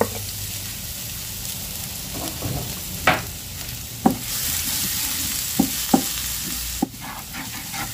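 Garlic sizzles steadily in a pan of cooking oil, a continuous close hiss punctuated by a few sharp clinks and scrapes of a utensil stirring against the pan.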